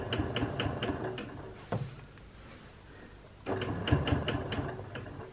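Sewing machine stitching straight quilting lines, running in two close bursts of rapid rhythmic needle clatter separated by a quieter pause with a brief handling knock.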